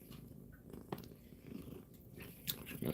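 A cat chews and bites on charred bacon fat nearby, making soft wet crunches and chewing sounds in short bursts. A low purr runs steadily under the eating.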